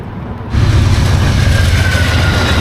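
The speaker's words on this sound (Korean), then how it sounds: "오, 기차 온다." A train passes close by on a foggy rural road in Washington near the Oregon border, suddenly bursting in as a loud, dense rumble and roar that holds steady to the end, with no voices.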